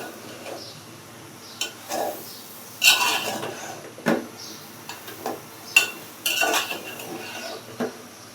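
Aubergine and potato stirred in a pot, a series of scraping clinks and knocks of a spoon against the metal at uneven intervals, close by, with a voice speaking between them.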